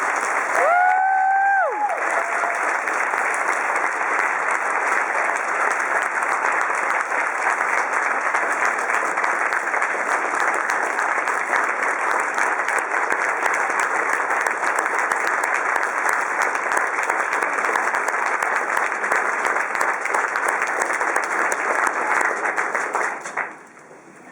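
An audience in a church hall bursts into sustained, dense applause welcoming a new minister at her installation, steady and loud for over twenty seconds before fading at the end, a brief voice at the start.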